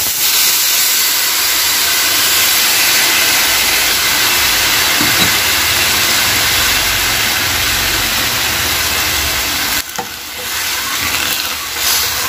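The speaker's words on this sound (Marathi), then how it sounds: "चिंचेचं पाणी ओतायचं" Tamarind water poured into a hot spiced oil tempering for chutney, a loud sustained steaming hiss and roaring sizzle that holds steady, then briefly dips and flares again near the end.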